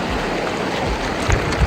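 Hot river water from a volcanic spring in La Fortuna, Costa Rica rushes along in a steady, close gurgling flow, with small splashes rising near the end.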